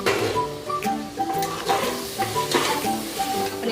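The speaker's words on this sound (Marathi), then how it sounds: "आणि आपण हे चांगलं मिक्स करून घेऊया." Veg pulao with tomato stirred in a pan, a spoon scraping and tapping in uneven rhythm over a continuous soft sizzle, with background music.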